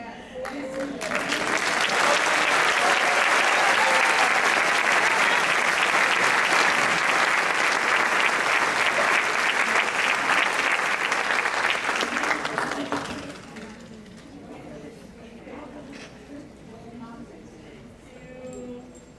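A concert audience at a festival gives loud, sustained applause and cheering for about twelve seconds before it fades quickly. Scattered voices and talk follow in a quieter room.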